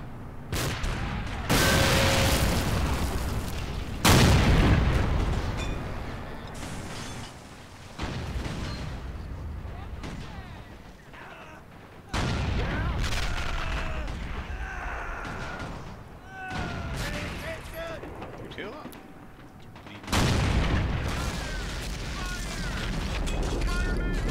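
AI-controlled units fire in a Men of War tank battle, with repeated bursts of gunfire and heavy booming shots in clustered volleys, while people talk between and over the shots.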